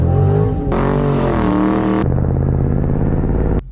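A Chrysler 300C with a 6.4L V8 roars under hard throttle, its loud engine note climbing in pitch through the gears with two sharp upshift breaks and a steady rising pull after each.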